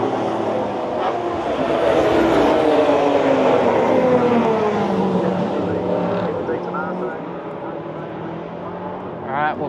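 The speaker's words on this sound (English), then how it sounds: "I'll show you some spots down here, some cars coming through." Race cars coming through at the Bathurst circuit in Australia, loud engines roaring past nearby in a long rising and fading sweep, with a person talking over the noise.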